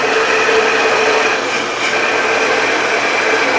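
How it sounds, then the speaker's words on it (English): A bandsaw cutting through wood for a drawer, a loud continuous whining buzz at steady pitch with no pauses and no talking. "We're going to try to use the bandsaw."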